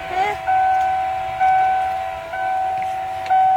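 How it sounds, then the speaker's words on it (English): A 96 Ford F350 with the 7.3 liter Powerstroke diesel, converted to an electronic fuel pump, has that pump running loud and close as a steady whine that comes in surges every second or so. "You can already hear the fuel pump pumping."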